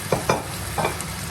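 Shrimp for a baked shrimp and glass noodle dish cook in a covered pan with a steady faint sizzle and a few soft taps close by, no talk.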